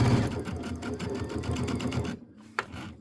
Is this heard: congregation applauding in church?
no